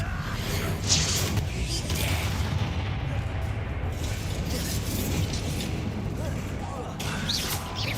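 Spell blasts including Confringo in the video game Hogwarts Legacy: repeated booming explosions and whooshing impacts over a dense, continuous rumble of combat noise, loud and sustained.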